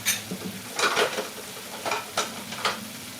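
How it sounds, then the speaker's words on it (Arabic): Chopped onions frying in a pan for an eggplant and turkey kefta tagine, a soft sizzle under several short scraping stirs, close and moderately quiet. "من بعد ما كتشحر لينا البصله على هذا الشكل"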